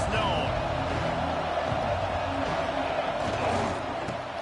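A dense, steady roar from a stadium crowd in EA College Football 26 fills the air, loud and continuous, with a commentator talking over it.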